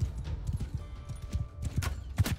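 Horse hooves in Mount and Blade Bannerlord sound as a rapid, uneven clip-clop gallop during a battle, with sharp louder impacts near the end.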